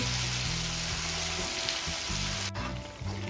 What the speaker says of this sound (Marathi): इथे छान परतून घ्यायचे आहे दोन ते तीन मिनटं